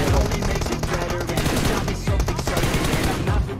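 Automatic UMP submachine gun fire in the mobile battle royale game PUBG Mobile, loud rapid bursts of shots packed densely across the whole stretch with a few brief gaps, with no one speaking.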